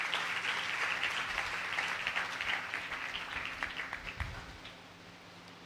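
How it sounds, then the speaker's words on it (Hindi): Church audience applauding for the army during a sermon, a broad steady wash of clapping that fades slightly toward the end, heard alone without speech. "आओ अपनी फौज के लिए जोरदार तालियां बजाएं।"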